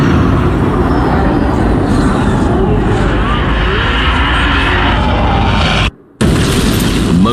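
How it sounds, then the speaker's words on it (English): A huge jet of fire erupting like an explosion during the King's Cross station fire: a sustained, loud, roaring rumble fills the whole stretch, broken by a brief cut to silence before resuming. "Moments later, a huge jet of fire erupts"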